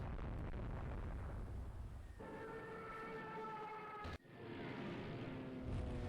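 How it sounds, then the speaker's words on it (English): Heavy naval gunfire in a warship strategy video game, with a Bismarck-class battlecruiser firing. A steady rumbling bed with droning tones runs throughout, broken by one sharp, loud boom midway. "that looks like big gunfire coming at us"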